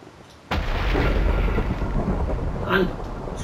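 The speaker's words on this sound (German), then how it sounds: "Ich hasse Gewitter." A sudden loud thunderclap in a Minecraft thunderstorm breaks in sharply and rolls on as a long, heavy rumble that swells again near the end, close and dominant, with no speech.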